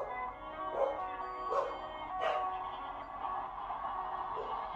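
Dogs bark and yip in short, muffled bursts at a distance, about three or four calls over a steady background hum.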